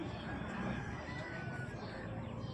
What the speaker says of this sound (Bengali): নেক্সট একটা মোরগ দেখছেন